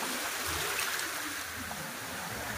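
Strengthening waves at sea off Boracay in the Philippines as rain approaches, a steady loud broadband wash of water and spray with no breaks, heard from close by.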